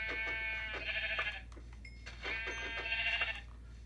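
Sheep bleating in Minecraft, a pair of short wavering bleats separated by a brief pause, fairly faint over a low steady hum, with no talk.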